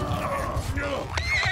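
A horse in a large multiplayer siege battle in Mount & Blade II Bannerlord whinnies loudly and close, amid battle noise with hooves clip-clopping. Someone talks over it.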